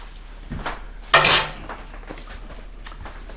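Utensil mixing a dill sauce in a bowl, with one loud clattering scrape of metal against the dish and a few lighter taps around it, nearby and without speech.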